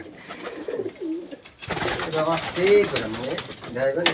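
Racing pigeons in a rooftop loft give soft, repeated throaty coos, close by, with a voice talking nearby.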